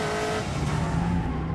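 A Caterham sports car understeers through a corner, with a strained engine tone and a thin tyre squeal as the front wheels slide, brief and fairly close.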